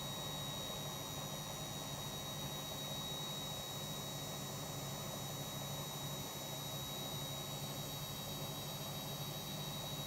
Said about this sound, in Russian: вот сейчас я не буду разговаривать, сами услышите отжим и оцените.